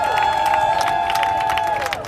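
A protest crowd at a counter-protest rally in Huntington Beach cheers and applauds loudly and steadily, with overlapping shouts and a sustained tonal ring riding over the dense crowd noise.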